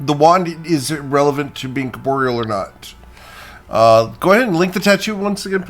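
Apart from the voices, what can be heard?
None of the usual background noises is heard.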